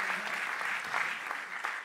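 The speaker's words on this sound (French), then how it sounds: "on peut les applaudir très très fort" Crowd applause at a startup pitch battle during the French Tech cup, a dense even patter of clapping from an audience, fairly soft and distant and without speech over it.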